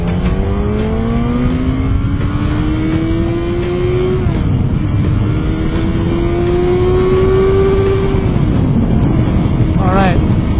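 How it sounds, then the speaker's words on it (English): A 2008 Yamaha FZ1 motorcycle revs hard through rising engine sweeps, dipping briefly around the middle before climbing again and bouncing off the rev limiter near the end; loud, close and continuous, heard from the rider's position. "bounced that off the rev limiter."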